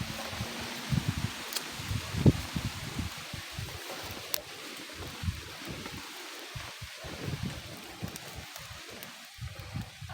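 Wind gusts steadily outdoors, buffeting and rustling across the microphone at a moderate level, with a few brief knocks and no clear talk.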